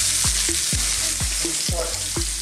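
Pork pieces frying in hot oil in a wok for pancit palabok, a steady loud sizzle broken by regular scraping stirs about every half second, close and with no talking.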